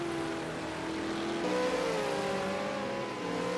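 A V8 Supercar engine revving at Bathurst Mount Panorama in a racing video game, a steady sustained drone that shifts pitch mid-way as the car changes gear, heard alone.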